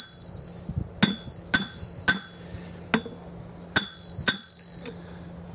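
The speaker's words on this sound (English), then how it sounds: "This is taking a lot of hammering." Sharp metallic hammer strikes on hot metal at a blacksmith's forge ring out one at a time with bell-like overtones, about seven blows spaced irregularly with short ringing decays.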